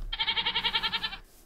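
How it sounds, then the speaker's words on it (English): A single short, wavering bleat of a Minecraft goat, close and fairly loud, trembling rapidly for about a second before cutting off. "The goats."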